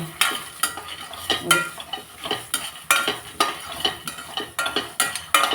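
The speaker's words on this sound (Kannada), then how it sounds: "ಹಾಗಾಗಿ ಶೇಂಗಾ ಹುರಿತಾ ಇದ್ದೀನಿ." Peanuts being roasted in a pan and stirred, giving a close, rhythmic series of scraping, rattling strokes over a faint sizzle, with no speech.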